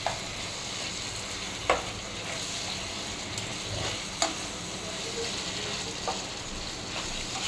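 Washed beef sizzling in a hot pan, a steady quiet frying hiss with occasional sharp pops and utensil clicks scattered throughout, no voices.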